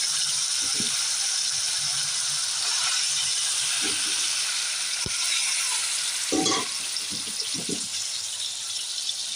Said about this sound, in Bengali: তেল গরম হয়ে গেছে মূলোটা ছেড়ে দেবো